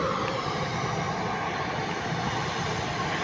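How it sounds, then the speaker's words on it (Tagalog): A large rice mill in Bohol runs with a loud, steady, unbroken mechanical roar that holds level throughout, with no voices over it. "Murag mao man gyud pinakadakong rice mill sa tibok Bohol."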